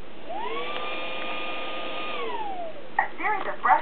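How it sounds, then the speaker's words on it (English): A Roomba 535 robot vacuum runs with a smooth whirring tone that rises, holds steady for about two seconds, then winds down, followed by a few brief chirps. "Roomba uses a vacuum,"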